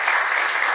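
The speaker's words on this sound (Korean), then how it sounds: "환영하는 박수로 이렇게 한번 하시죠" A church congregation at a Thursday healing service bursts into dense, steady welcoming applause, loud and continuous throughout with no voices over it.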